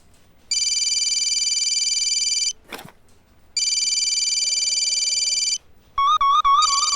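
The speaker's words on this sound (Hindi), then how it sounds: "संतोष शर्मा, फोन लगाइए" A phone ringtone plays in two long electronic bursts with a short pause between, followed by a quicker warbling melodic ring; no voices.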